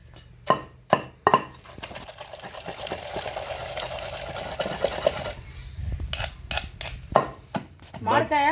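Raw mango chutney pounded in a stone mortar, a few sharp thuds at the start and end with a grinding, rubbing stretch in between, close by.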